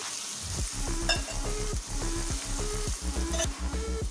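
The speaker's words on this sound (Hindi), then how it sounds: "तकरीबन 30 सेकंड तक मैं लहसुन अदरक के पेस्ट को भी कुक करूँगी।" Garlic ginger paste fries in a pan for a chicken tinda curry, giving a steady close sizzle broken by a regular pattern of stirring sounds, with no talking.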